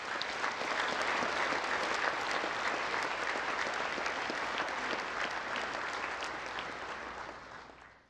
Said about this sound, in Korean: 오늘 참석한 이분들께 뜨거운 박수 부탁드리겠습니다.